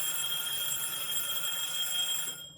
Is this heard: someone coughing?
no